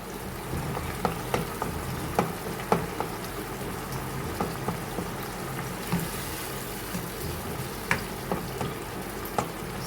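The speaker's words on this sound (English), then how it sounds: "Stir it properly." Prawns vegetable pulao stirred in a cooking pot, a steady frying sizzle with repeated scraping clicks of the spoon against the pot, close and continuous with no talk.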